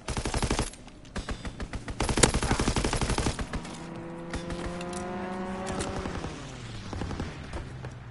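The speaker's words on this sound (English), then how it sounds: "Strafing run inbound." Rapid machine-gun bursts from a strafing run in a first-person shooter game, loud and rattling at first, then easing under a rising engine whine as an aircraft passes, with no talk.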